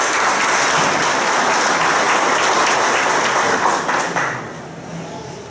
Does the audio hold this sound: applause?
yes